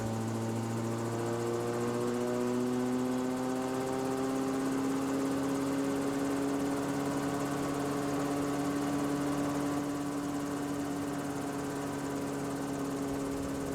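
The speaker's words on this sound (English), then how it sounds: "With the engine at operating temperatures, open the throttle to bring rotor RPM to 520." A Rotorway kit helicopter engine runs steadily at operating temperature with the throttle being opened, a loud continuous drone with rising harmonic tones holding for the whole stretch and no talking.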